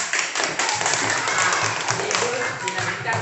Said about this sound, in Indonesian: Oh, tepuk tangan yang menjawab semua.